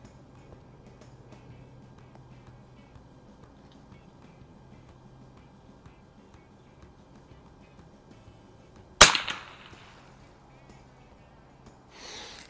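An early Marlin 39A lever-action rifle with peep and globe iron sights fires a single sharp crack outdoors after a long quiet stretch, followed by a brief ringing decay.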